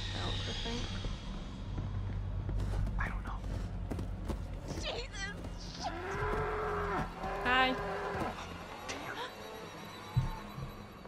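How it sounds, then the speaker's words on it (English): Several cows moo in long, wavering calls at mid distance in the video game Until Dawn, with clattering and scattered noises between them and a voice speaking quietly underneath. "I can hear cows. It sounds like cows. I'm hearing a lot of moos."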